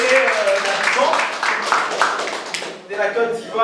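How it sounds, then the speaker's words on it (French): An audience in Tunisia claps for a singer from Côte d'Ivoire, a close, moderately loud patter of hands rising and falling over a few seconds, with a voice speaking over the clapping. "des applaudissements pour Yannick qui nous venait"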